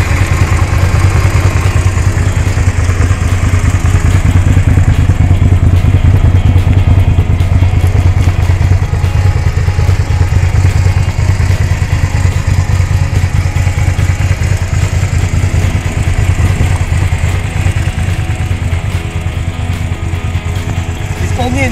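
A Suzuki SV400S motorcycle engine runs loud and close for the whole stretch, a steady low mechanical rumble with clattery texture and no clear starting moment.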